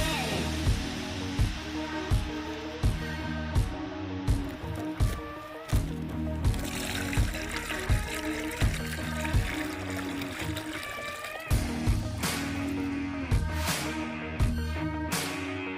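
Degreasing liquid poured from a classic Mini's fuel tanks into a storage container, faint trickling and splashing with repeated short glugs and drips over a quiet background, no talk.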